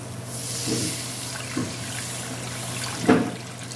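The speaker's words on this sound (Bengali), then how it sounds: "এবার আমি জল ঢেলে দেবো" Water is poured into a pan of cooking potato curry with stuffed potatoes after the spices have been fried in oil, giving a soft running splash with a few brief splashes and clinks over steady low kitchen hum.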